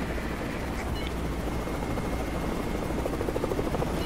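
A helicopter in an online multiplayer video game gives a steady droning rotor whir that runs continuously throughout at a moderate, even level, with faint other game sounds and no speech.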